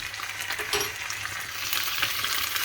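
Spoonfuls of garlic and ginger sizzling in a pan on full heat for a curry: a continuous, crackling hiss that is fairly faint but unbroken, with no voice.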